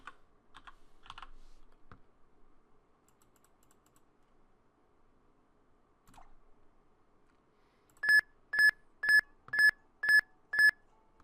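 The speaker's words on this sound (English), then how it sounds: "2580 is what I'm typing." Numbers typed on a computer keyboard: a few soft key clicks, a pause, then six evenly spaced, clear electronic beeps close together. No one speaks.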